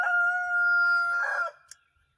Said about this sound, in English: I've let the chickens out.